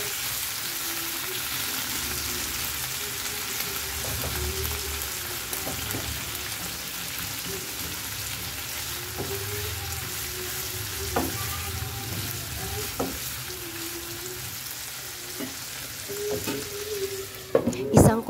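Pork for adobo with sitaw fries in a pan until its fat renders, sizzling steadily up close while occasional scrapes and clinks of stirring break through, louder near the end.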